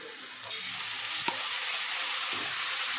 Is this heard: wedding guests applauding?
no